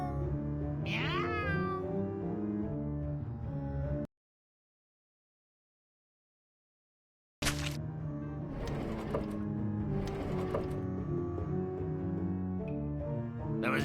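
Cat meows from the video game American McGee's Grimm, in its Puss in Boots episode, rising over steady game music; a few meows sit near the start and more come after a few seconds of complete silence.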